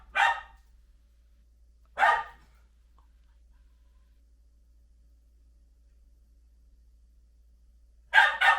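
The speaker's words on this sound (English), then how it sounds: "Can you hear the dog barking?" A dog barks indoors in short, separate bursts: one single bark, another about two seconds later, then a double bark after a long quiet gap. The barks sound moderately close and stand alone with no talk.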